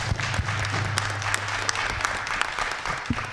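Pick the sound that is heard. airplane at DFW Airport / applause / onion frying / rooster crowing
applause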